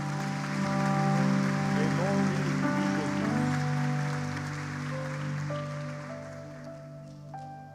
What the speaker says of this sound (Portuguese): Quem recebe essa oração, essa palavra, aplauda o Senhor.